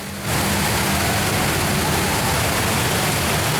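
Indoor waterfall in the Cloud Forest conservatory at Gardens by the Bay, Singapore: a loud, steady roar of falling water that swells in abruptly and holds as a constant broadband rush.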